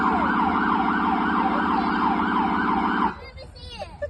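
A police car siren wails loudly and steadily, rising and falling in a fast continuous cycle for about three seconds before cutting off abruptly, leaving faint outdoor vehicle noise.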